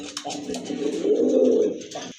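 A pigeon coos up close, a soft low throaty call that swells and rolls on for about two seconds, with nothing else around it.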